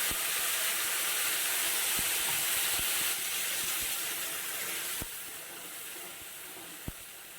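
Ginger, tomato and green chilli spice mix sizzles steadily in a pan for Bengali chitol fish curry, a continuous close hissing fry broken by a few faint clicks and taps.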